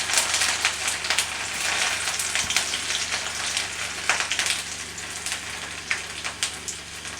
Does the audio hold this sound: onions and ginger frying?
yes